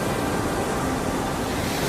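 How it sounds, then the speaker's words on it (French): Steady wind blows hard at the water's edge, forming a dense, continuous roar that mixes with surf-like noise. It is loud and close throughout, with no voices. "C'est qu'il y a pas mal de vent aujourd'hui."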